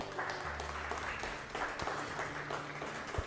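Congregation clapping together in a church during a Spanish-language sermon, a steady continuous wash of applause at moderate level with a faint voice underneath.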